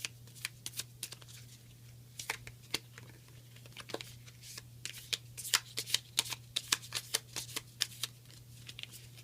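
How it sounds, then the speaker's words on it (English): A deck of board game resource cards from a zombie survival game is shuffled up close, with rapid riffling bursts and crisp card snaps over a quiet steady hum. "Shuffle these up real quick."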